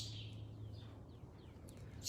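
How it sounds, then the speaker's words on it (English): Several small birds chirp and tweet in brief upward and downward calls from the rafters of a horse barn on a farm, fairly distant, over a steady low hum. "There's a lot of birds that live up in the rafters."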